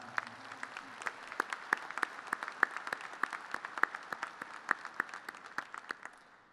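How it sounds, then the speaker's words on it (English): Sparse, distinct hand claps from an audience at a Student Veterans of America event, individual sharp claps in a loose irregular patter, fairly quiet, tapering off at the end. "I think he deserves some applause for that."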